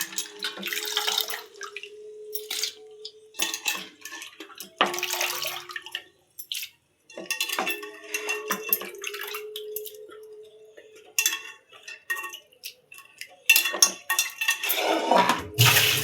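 Fish being rinsed by hand in a bowl of water, with sloshing splashes and clinks of the bowl coming in repeated bursts separated by short pauses, close and fairly loud with no talking.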